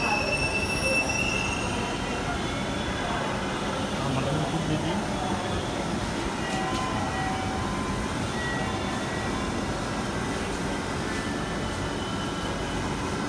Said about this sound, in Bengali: সম্ভবত ট্রেনটা চলে আসছে।